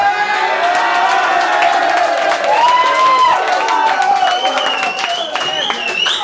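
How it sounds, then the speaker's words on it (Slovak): An evening audience in Ružomberok bursts into loud applause and cheering for the entertainer Lacko Meliško, with dense clapping, whoops and excited shouts filling the space, and a few voices calling out over the noise. "Áno, aplauz, len a len pre Lacka"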